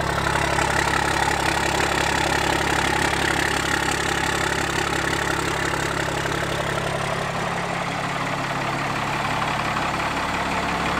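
A straight-piped Chevy truck with a 12-valve engine idles loud and steady at close range, a constant low rumble with no speech over it.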